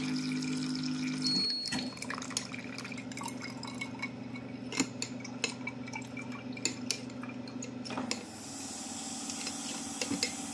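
Melon juice mixed with water is strained through a sieve into a glass, with a soft trickle and pouring, occasional drips and light clinks of glass, close and fairly quiet.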